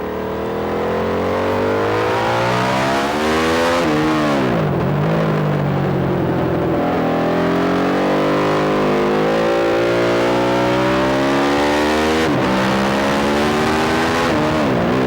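Aprilia SXV twin-cylinder motorcycle ridden hard on a karting track, engine revving up and down through gears, loud and close, rising and falling pitch with sharp shifts.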